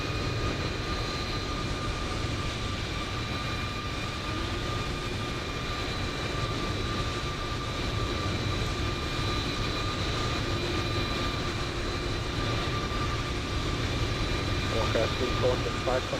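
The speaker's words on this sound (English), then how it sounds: "Will is in a EasyJet 320 Neo." An EasyJet Airbus A320neo in Microsoft Flight Simulator 2020 gives a steady, even engine drone with faint whining tones that holds for the whole stretch, with a few light clicks near the end.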